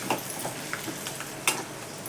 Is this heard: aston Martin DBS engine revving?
no